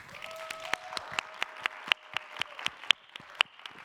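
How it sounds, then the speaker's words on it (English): Sparse audience applause after an interview on defending civil liberties, scattered distinct claps at a moderate distance, fairly quiet and irregular, with a faint tone humming underneath. "A big round of applause for Michelle."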